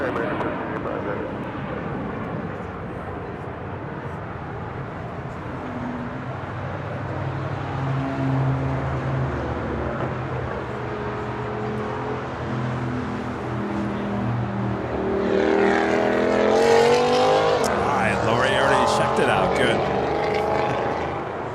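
An ANA Boeing Dreamliner arriving from Tokyo Haneda touches down at LAX, a rumbling engine drone that builds into a louder whooshing roar near the end, with voices heard over it.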